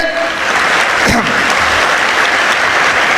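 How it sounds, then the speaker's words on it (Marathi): A crowd at a public comedy speech event bursts into loud, sustained applause, many hands clapping close and full throughout, with a brief shout rising above the clapping. "सर्वांनी एकदा स्वतःसाठी टाळ्या वाजवा"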